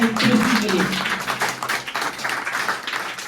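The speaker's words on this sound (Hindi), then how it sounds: "एक बार जोरदार तालियां हैं सृष्टि के लिए।" Audience applause for a girl's Hindi storytelling performance, a burst of dense clapping that begins loud with a voice over it and then tapers into scattered claps.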